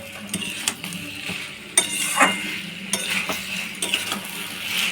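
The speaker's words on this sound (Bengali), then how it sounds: "দিয়ে চিলি চিকেনটা নেড়ে চেড়ে 1-2 মিনিট ফুটিয়ে নেব" Chilli chicken simmering in a pan is stirred with a spoon, giving repeated scrapes and clinks over a steady bubbling sizzle, close and fairly loud.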